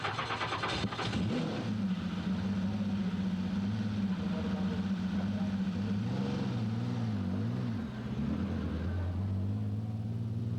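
Modified production cadet cars race around Lismore Speedway in an Australian championship, with a continuous loud engine drone rising and falling in pitch as the cars circle, and no talk over it.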